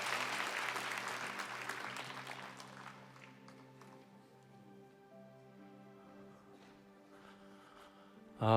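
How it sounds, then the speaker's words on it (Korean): A congregation at a church festival gives a round of applause that fades after about three seconds, leaving sustained keyboard or organ tones ringing softly, with a sudden loud burst at the very end. "다시 한번 더 큰 박수 한번 해주십시오"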